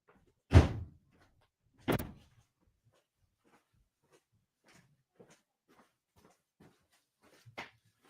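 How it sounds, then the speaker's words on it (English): A door is shut with two sharp, loud thuds close by, the first slam followed a second later by another, then faint knocks and rustles trail off in a quiet room. "I got to go shut my door."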